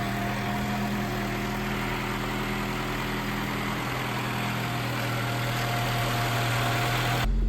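Peugeot 305 Turbo engine idling smoothly after a restart without choke following ten years off the road, a steady low rumble with slight vibration, fairly close and alone, with a brief louder thump at the very end.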